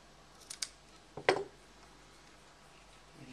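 Scissors snip through material for a small handbag for a Barbie doll: a couple of light quick snips, then one louder, sharper cut, close and quiet with no talking.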